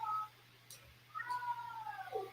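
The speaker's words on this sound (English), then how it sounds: "Can you guys hear the cat howling in the background?" A cat howls in the background of a quiet indoor room, giving a short meow and then a longer drawn-out wail that bends downward at the end, fairly faint.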